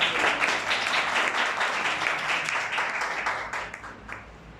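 A church congregation claps together in sustained applause, a dense even wash of many hands that stays steady before thinning slightly toward the end.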